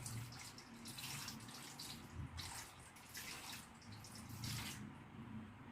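Water is poured and rinsed slowly over a patient during a bed bath, a soft continuous splashing trickle with gentle surges, faint and close, with no talking.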